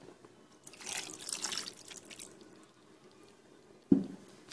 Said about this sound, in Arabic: هنضيف لها بقى كوباية مية او شوربة